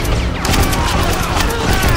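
Rifle gunfire crackles through a battle scene in a Korean historical action film, dense overlapping shots and crashes in a loud, chaotic barrage with a voice talking over it.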